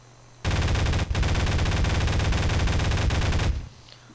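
Mouse-aimed Wire turret in Garry's Mod firing a steady, loud stream of rapid automatic shots for about three seconds, with one brief break near the start, then cutting off abruptly.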